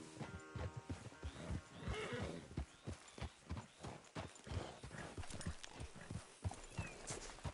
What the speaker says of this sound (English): Damn horse acting up on me, of all the times.